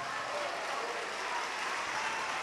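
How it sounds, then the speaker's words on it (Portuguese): Applause in a church service in Salvador, Bahia, a distant, even wash of many hands clapping, steady and fairly faint with no break. "vamos dar a melhor salva de palmas que já se ouviu em Salvador para o nosso Salvador"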